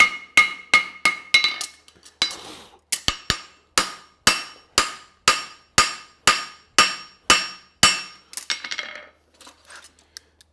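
A hammer strikes a French hind horseshoe on the anvil in a steady run of about eighteen ringing metallic blows, close and loud, each with a short decay and no talk over them.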